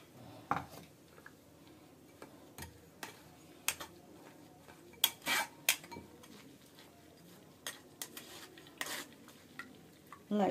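Spicy pani puri water, freshly ground in a mixer, being worked through a metal strainer, heard as irregular soft clinks, taps and scrapes of spoon against strainer and bowl, quiet and close with no talking.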